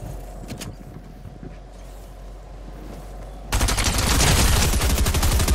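SMG gunfire in Fortnite, starting as faint distant shots over quiet background and then turning into a loud, dense rapid stream of fire for the last couple of seconds.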